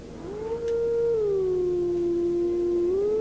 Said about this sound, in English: we just gotta howl it again, this time it's on screen